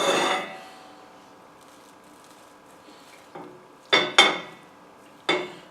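Cutlery scrapes and clinks against a pan on a stovetop while cutting into a freshly cooked omelette: a sharp clatter at the start, then three or four distinct metallic knocks and scrapes near the end, close and alone.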